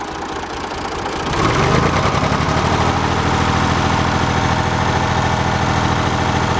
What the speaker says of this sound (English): Right now it's on low idle.